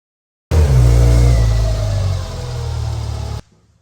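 A car engine with a bad exhaust leak starts abruptly and runs loud and close for about three seconds, a rough, throaty rumble with a slight rise and dip in revs, then cuts off sharply.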